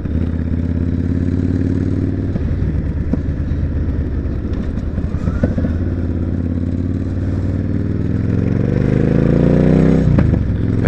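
A motorcycle is ridden along, its engine humming steadily under wind rumble and road clatter, with gear shifts and a rising rev near the end, continuous and close.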